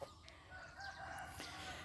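Fighting roosters on a rural Thai farm crow and cluck at a distance, faint calls rising over steady outdoor background noise.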